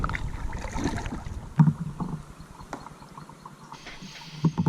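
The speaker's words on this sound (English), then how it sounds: "We're gonna paddle on down here" Kayak paddling on the Cape Fear River near Lillington: rhythmic paddle strokes and water splashes close by, with a few louder knocks against the hull and light wind noise in the background.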